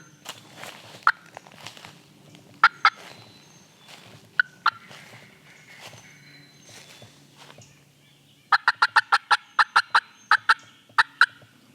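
Hunters imitate turkey hen calls in the woods late in the season, producing sharp clucks and yelps, scattered at first and then a fast run of rhythmic yelps near the end, close and loud over quiet ambience.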